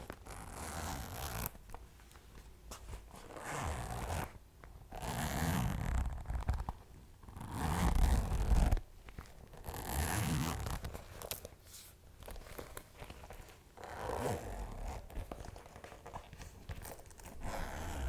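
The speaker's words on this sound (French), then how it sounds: "cette fermeture éclair ne fait absolument pas le même bruit et ne relaxe pas de la même manière" A silver-gold zipper is repeatedly pulled open and closed in a close, quiet ASMR setting, each long zipping stroke rasping in bursts separated by brief pauses.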